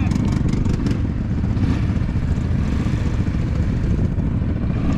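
A quad bike engine runs steadily and loud while riding across the dusty Agafay desert near Marrakesh, with a constant rumbling drone and wind buffeting throughout.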